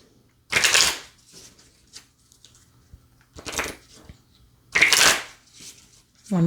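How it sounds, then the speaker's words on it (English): Tarot cards being shuffled by hand, three separate loud riffling bursts close to the microphone, separated by quiet pauses with faint soft handling noises. "One more shuffle, they said."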